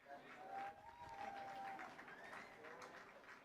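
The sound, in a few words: applause as the pitcher Wade leaves the baseball field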